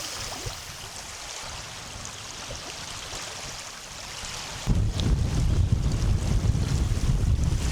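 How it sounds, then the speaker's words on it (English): Strong wind buffets the microphone beside shallow water on a cold, stormy evening of fishing, a steady broadband roar that swells abruptly louder about two-thirds of the way through. "it's really windy here"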